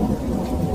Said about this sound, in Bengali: বৃষ্টি তখনই জোরে নামতে শুরু করেছে